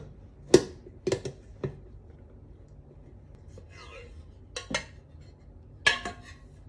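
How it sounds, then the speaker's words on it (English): Baked pineapple upside-down cake coming out of its pan: a few sharp metallic knocks and clatters of the pan spaced apart over quiet room tone, with faint soft handling noise between them. "we have to get it out of this pan as quickly as possible"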